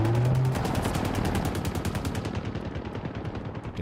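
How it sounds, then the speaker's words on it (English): Rapid automatic gunfire from a Star Wars video game, a loud continuous burst of closely spaced shots that keeps rattling for several seconds with no talk over it. "Hail of gunfire."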